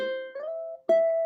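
Plucked ukulele notes joined by a smooth legato slide, a sustained tone gliding up to a higher pitch, then another clear pluck ringing out, played close and alone.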